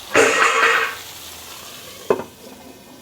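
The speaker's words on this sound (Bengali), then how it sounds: "এটা ঢেকে ঢেকে আমি আলুটাকে ভেজে নেব" Potatoes fry in a little oil in a covered pan, a short close burst of sizzling and stirring followed by quieter hiss and a brief second scrape of activity.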